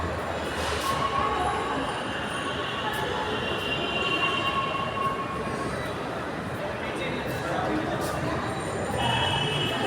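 A metro train rumbles steadily at a Delhi metro station, with wheel noise and occasional high squeals, under faint voices.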